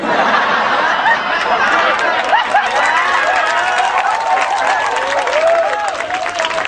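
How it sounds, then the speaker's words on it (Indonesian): A large audience at a humorous Islamic sermon claps steadily throughout, mixed with laughter and crowd chatter, loud and close with overlapping voices. "Aku tahu dia ikut tepuk tangan kok"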